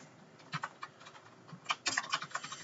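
Someone types a headline on a computer keyboard, producing a quick, uneven run of close, soft key clicks with brief pauses between bursts.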